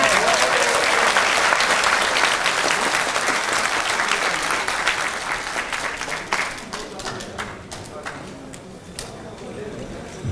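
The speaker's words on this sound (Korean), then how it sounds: "우리 박수로 함께 모시겠습니다." Crowd applause welcomes a lawyer at a gathering about an election lawsuit, dense and steady at first, then thinning into scattered claps toward the end.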